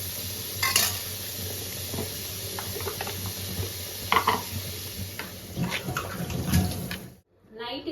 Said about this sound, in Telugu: ఇప్పుడు చికెన్ యాడ్ చేసేసుకొని ఫ్రై చేసేసుకుందాం.